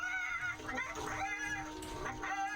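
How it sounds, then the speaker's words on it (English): Robotic chicken clucking from a creature in World of Warcraft, a run of warbling, metallic clucks and squawks that goes on steadily and fairly loud over a faint game background, with no talk. "Just making the weird robo chicken sounds."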